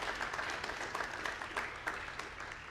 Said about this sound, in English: give a round of applause for Nate and for the MVP Arena staff